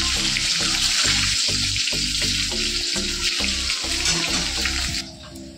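Eggs fry for an egg curry in a continuous, loud sizzle and crackle, with a steady low mechanical hum beneath that fades just before the end.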